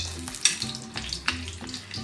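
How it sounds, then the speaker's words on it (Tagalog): Ginger sautés in a hot pan with a light, continuous sizzle and small crackles and stirring clatter, heard close up without talk. "Natong lunod ang luya."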